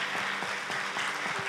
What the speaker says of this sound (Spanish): ¿Cuántos le dan un fuerte aplauso a la palabra de Dios?